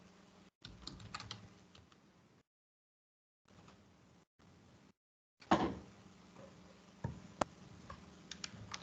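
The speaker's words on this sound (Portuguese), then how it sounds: "Tô digitando aqui." Bursts of typing on a computer keyboard during an online engineering drawing lesson, quick clustered key clicks separated by short silences, close and moderately loud, with a sharper louder run near the end.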